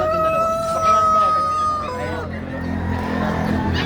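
A big rooster in Baliwag, Bulacan lets out one long, loud crow that holds steady and then breaks off, followed by lower noise and the murmur of people talking nearby.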